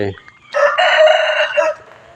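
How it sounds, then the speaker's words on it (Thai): A rooster crows once, loud and close, a long drawn-out call lasting over a second, with quiet surroundings before and after. "กอไก่ขันอุกเอก"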